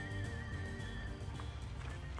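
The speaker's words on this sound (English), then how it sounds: "Horse." A horse whinnies with a long wavering call in the video game Hunt: Showdown, over a dense, steady background of game sound and low rumble.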